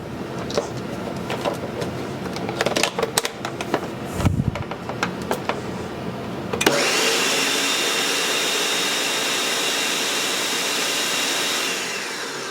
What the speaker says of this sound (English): It needs to be blended so it's nice and smooth and all of your peas are mashed up.